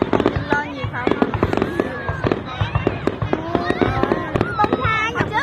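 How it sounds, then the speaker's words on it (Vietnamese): Lunar New Year fireworks burst in a dense run of sharp pops and crackles, some close and loud, others scattered and lighter. Excited voices talk and exclaim throughout. "Trước pháo to hơn bây giờ nhỏ nhỏ nha."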